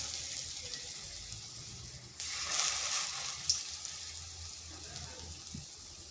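Ingredients hit hot oil in a kadai over slow to medium heat and burst into a loud, steady sizzle that stays close and continuous, with a few small clinks underneath.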